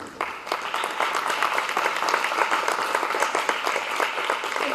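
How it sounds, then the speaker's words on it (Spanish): Loud, sustained applause from a church congregation, dense clapping throughout with no pauses. "Denle palmas fuertes"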